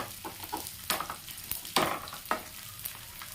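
Gond, edible gum, frying in ghee in a pan over medium heat: a soft continuous sizzle broken by several sharp crackles and pops as pieces puff up, close by and fairly quiet.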